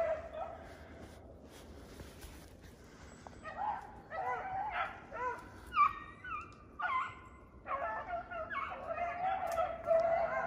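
Beagles running a swamp rabbit in thick North Carolina cover bark and yip at a distance, their calls overlapping in irregular bursts that grow busier over a steady outdoor background.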